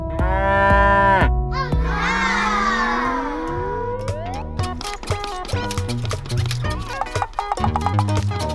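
A cow moos loudly in a long, drawn-out call that rises and falls, followed by a busy run of shorter animal and toy sounds.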